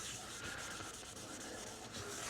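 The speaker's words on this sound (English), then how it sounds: "Just take a dry towel, and you want to basically rub all this back out" A dry towel rubs firmly across a cast iron pan, giving a steady, close, continuous scrubbing swish with no voices.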